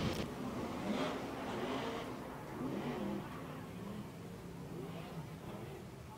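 Sprint cars racing at Silver Dollar Speedway during a double-file restart, a distant droning engine roar from several cars that swells and fades under a steady crowd-and-track background.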